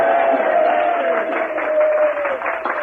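Live audience at the Limelight club in 1965 cheering and applauding, a steady wash of clapping and crowd noise filling the room for a few seconds without pause.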